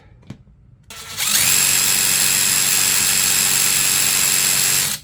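After a faint click, a cordless impact driver, a DeWalt DCF809 or a Ryobi, spins up and runs free at full speed, giving a loud, steady high-pitched whir for about four seconds before stopping abruptly.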